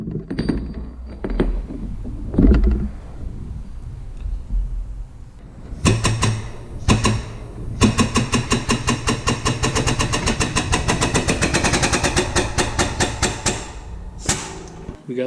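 Gear pressed onto the splined shaft of a RZR transmission in a shop press, a run of sharp rhythmic metallic clicks and knocks building in a dense burst after a few louder thuds and clanks, close and fairly loud.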